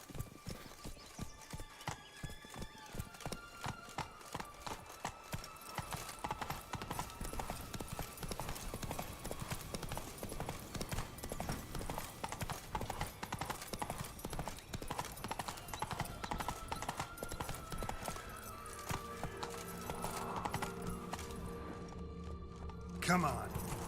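Roach, the horse in The Witcher 3, galloping: rapid rhythmic hoofbeats drum steadily for most of the stretch, loud and close, then slow toward the end among game sounds, with talking layered over them and a whinny possible.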